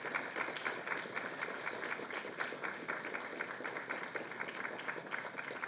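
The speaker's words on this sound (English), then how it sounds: "how about you give a big round of applause to all those folks in the back" Sustained applause from a seated audience at an Air Force ROTC commissioning ceremony, dense, even clapping that holds steady throughout, heard from some distance in a large room.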